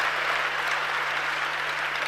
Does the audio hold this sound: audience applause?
yes